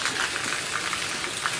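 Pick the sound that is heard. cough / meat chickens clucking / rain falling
rain falling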